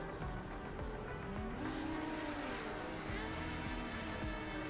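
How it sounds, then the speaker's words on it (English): Engine noise from the racing game Skids 650 fills the clip, a steady motor drone with rising and falling pitch sweeps as cars rev and shift, continuous and fairly loud. "I hear another car."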